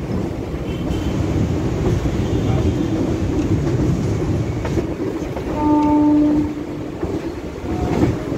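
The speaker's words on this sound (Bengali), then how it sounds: "আমাদের ট্রেন হাওড়া ছেড়ে চলছে।" A Howrah–Barddhaman Chord Line local train leaving Howrah rumbles steadily along the tracks with a constant roar, rhythmic rattling, and a short horn-like tone partway through.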